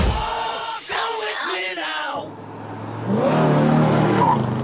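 Car engines rev and accelerate in a motoring show intro, first in quick close bursts, then a lull before a loud, sustained race-car roar with tire squeal and a faint crowd.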